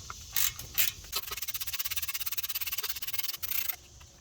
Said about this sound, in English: Here's the 3rd and final bolt that holds the IWE to the hub. Go ahead and remove that.